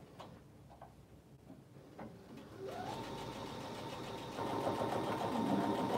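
A sewing machine runs steadily while joining quilt-as-you-go blocks, its motor whirring with a rapid mechanical rhythm that grows louder and faster partway through.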